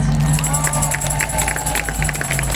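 A crowd at a Halifax rally claps and cheers in a dense, continuous patter of applause, with voices and chatter mixed into the din.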